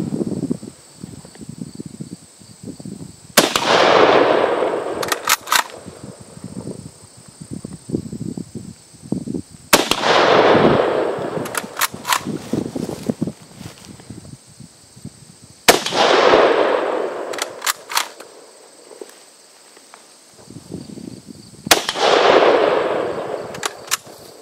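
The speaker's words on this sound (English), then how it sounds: "5 rounds on that plate" Rifle shots ring out in separated bursts, each one a sharp crack followed by the metallic ping of rounds striking an AR500 steel ballistic plate. The shots echo outdoors over a steady background of insect buzz.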